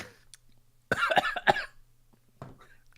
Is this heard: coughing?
yes